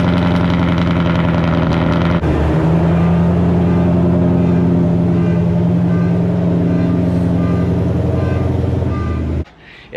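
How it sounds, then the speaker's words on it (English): Car engine cold-starting on E85 fuel, replacing a 2020 GT500: a brief starter crank, then a loud, steady, rumbling idle held close and alone for several seconds before cutting off. "That E85 cold start."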